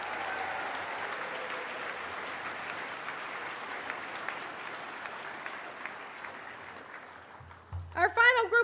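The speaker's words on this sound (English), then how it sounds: "Let's give these students a round of applause." Audience applause at a College of Health Professions white coat ceremony at Upstate Medical University: a steady, dense wash of clapping that slowly thins, with a voice starting to speak over the last second.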